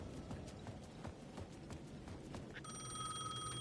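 Payphone ringing at the edge of a plaza in the Alan Wake II video game, its electronic bell starting partway through and continuing steadily over rhythmic footsteps and game ambience, with no talking.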